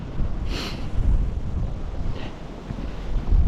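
Steady outdoor blizzard wind buffeting a microphone, a low rumbling roar throughout with a couple of brief gusty hisses, no talking.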